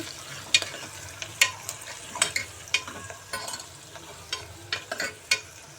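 Spices and turmeric frying in oil for a mutton curry, a soft steady sizzle punctuated by sharp spoon clinks and scrapes against the pan every second or so, heard up close without talk.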